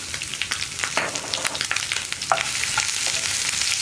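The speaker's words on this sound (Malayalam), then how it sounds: "ചെറിയ ഫ്ലെയിമിൽ വെച്ചിട്ട് റോസ്റ്റ് ചെയ്യാട്ടോ എല്ലാം" Coconut chips, dried chillies, ginger and green chillies roast on a low flame for a chickpea curry, giving a close, continuous crackling fry with scattered sharp pops.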